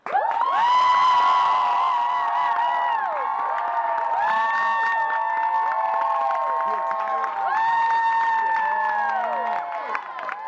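An audience roars for a favourite trick shot in a crowd vote, loud sustained cheering with high whoops and shrieking voices rising and falling in waves, clapping mixed in.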